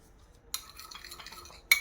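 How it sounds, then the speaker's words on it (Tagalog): A spoon stirs beef liver in oyster sauce, seasoned with salt and black pepper, in a pan: a short scraping clink of metal against the pan, then a soft stirring rustle and a final sharp clink, close and alone. "Kaya hahaluin natin to siya. Okay, gagamit tayo dito ng kutsara."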